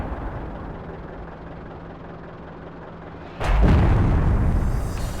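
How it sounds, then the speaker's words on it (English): Artillery shells burst close to an Easy 8 Sherman tank in a video game: a low rumbling backdrop, then one sudden loud blast that stays as a heavy roar to the end. "That was a narrow dodge for the Easy 8 from the artillery fire."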